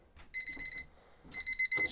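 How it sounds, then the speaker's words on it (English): A darkroom printing timer alarm rings in two bursts of rapid, high electronic beeps, each a string of four or five pulses with a short pause between, fairly clear against a quiet room. "there goes the timer"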